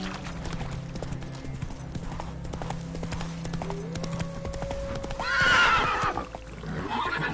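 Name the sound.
horse Roach hooves clip-clopping and neighing, from a video game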